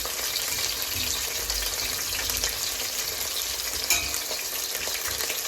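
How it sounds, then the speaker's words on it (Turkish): Onions sizzle continuously in a hot pan, a dense, even frying hiss with faint stirring sounds throughout. "Şöyle soğan ortalarımız da kızarsın."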